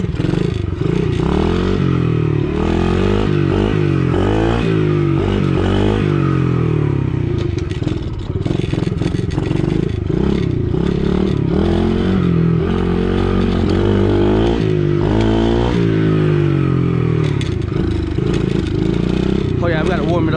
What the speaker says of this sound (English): we gotta warm it up. Yeah, I'm just warming it up right now.